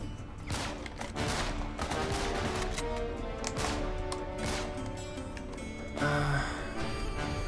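Gunfire in the video game Uncharted 3: Drake's Deception, a dense, continuous run of shots and crackling impacts forming a busy battle din, moderately loud with game music or ambience underneath.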